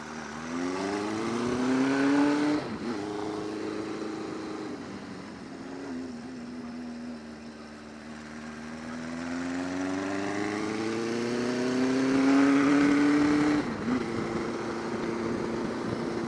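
A loud chopper motorcycle engine with loud pipes and a deep, throaty exhaust, rising and falling in pitch as it revs up and settles, steady throughout with no talking.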